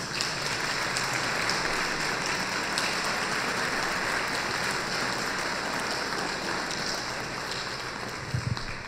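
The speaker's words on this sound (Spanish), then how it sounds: "hoy también quiero que le den un aplauso" Steady, dense applause from an audience at a church festival with a philharmonic band, filling the full nine seconds at an even level without letup.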